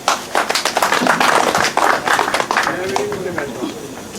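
A crowd at a community meeting with fishermen claps in dense, uneven applause that swells and fades over a few seconds, with voices talking over it.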